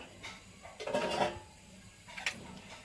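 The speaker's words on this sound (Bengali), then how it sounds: "মাছগুলো দিয়ে নাড়াচাড়া করব" Fried shol fish is stirred through a green-mango curry in a pan, with two short bursts of metal scraping and clinking close by against a quiet kitchen background.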